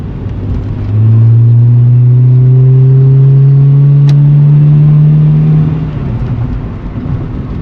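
A cheap car with an automatic transmission accelerates in D2 without upshifting from first, its engine droning loud and close with a steadily rising tone for several seconds before easing off.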